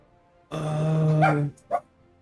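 A single dog gives one long, loud, drawn-out bark or howl followed by a short sharp yip, close by with no talking.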